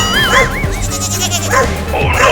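In a cartoon, a goat kid gives loud, wavering bleats and a dog barks. The sounds come in quick bursts, close up and brash.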